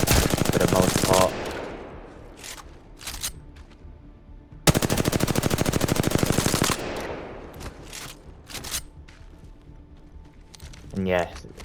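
Rapid automatic gunfire from a weapon in the Apex Legends video game, fired by holding the trigger, comes in two loud sustained bursts with scattered single shots and faint game effects between them.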